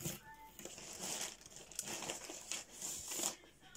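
Packaging of a subscription box crinkles and rustles as it is unwrapped, faint, close crackles in uneven bursts, with a voice faintly heard in the background.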